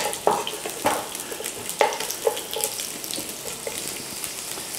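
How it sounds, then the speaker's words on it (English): Cubed onions hitting hot oil for a chicken dopiaza give a steady broadband sizzle, with a few sharper crackles and pops standing out near the start, close and moderately loud with no talking. "we're going in with some cubed onions"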